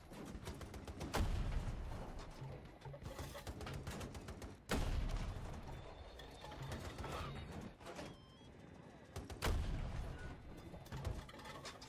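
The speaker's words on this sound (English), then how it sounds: "How does a tank shell not take out a wall?" Heavy tank shell blasts striking a wall in the Battlefield 2042 map Haven, three loud booming impacts spaced a few seconds apart with crumbling debris and rumble between them.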